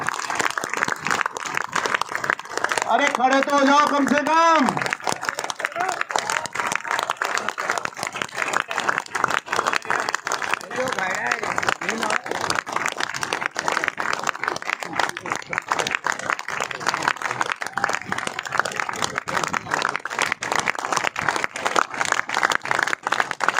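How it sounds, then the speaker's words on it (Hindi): A standing crowd at a ministerial employees' federation rally in Rajasthan breaks into sustained applause, a dense crackling roar of many hands that carries on for a long stretch, with a man briefly calling out over it near the start. "स्वरूप आचार्य जी के लिए खड़े होकर ताली बजाओ साथियों।"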